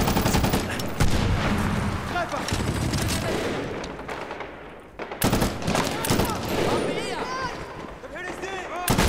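Automatic gunfire and heavy shooting in the Medal of Honor Warfighter video game, dense and continuous bursts throughout with louder sharp volleys, voices speaking over the din.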